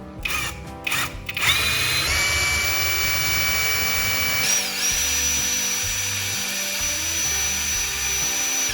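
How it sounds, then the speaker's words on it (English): A power drill bores a hole from the edge into the exact centre of a wooden board, with a steady loud whine that rises after short start-up bursts and holds throughout. "After that, I drill at the marked position."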